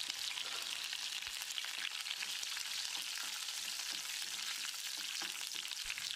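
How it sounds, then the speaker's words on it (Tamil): Garlic, fenugreek and curry leaves sauté in hot oil in a pan, giving a loud, steady crackling sizzle with occasional soft stirring knocks throughout. "2 கொத்து கருவேப்பிலையை போட்டு ஒரு 10 செகண்ட் இதை வதக்கி விட்டுடலாம்"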